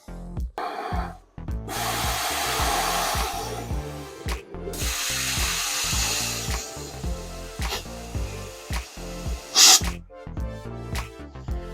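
Plasma arc cutter slicing through sheet metal while patching a large hole in a car trunk, a loud steady hissing roar broken by short gaps and sputters as the cut runs across.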